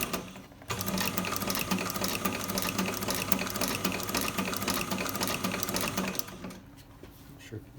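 Sewing machine running a row of repair stitches on a dog-chewed boot, one loud continuous mechanical whir for about six seconds, close up, then stopping to quieter handling noise.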